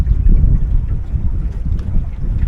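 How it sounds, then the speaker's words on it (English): Strong wind gusting across an open boat ramp where a Tesla Model Y Long Range is retrieving a towed boat, a loud continuous low rumble of wind buffeting the microphone, with no voices. "Very windy"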